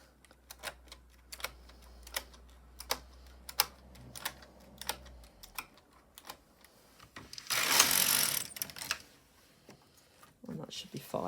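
An LK150 knitting machine carriage is pushed along a row, giving repeated sharp mechanical clacks in a steady rhythm, followed by a brief loud sliding rush, close and clear.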